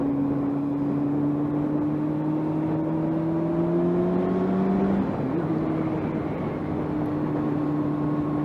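A motorcycle engine revs high toward about 10,000 RPM, a steady whining drone that climbs slowly in pitch and then drops sharply, continuing alone without talk.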